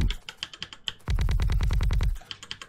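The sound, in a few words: typing on a silent computer keyboard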